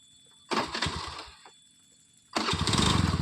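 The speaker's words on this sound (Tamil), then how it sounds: "வண்டி ஸ்டார்ட் பண்ணுறோம் பாருங்கள்." A scooter's electric starter cranks briefly, then after a pause the engine catches and runs with a steady, close, buzzing idle.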